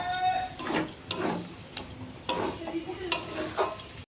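Bombay duck fish stirred in a pan with turmeric and salt, producing a soft sizzle broken by repeated spoon scrapes and taps against the pan, close and alone, ending abruptly.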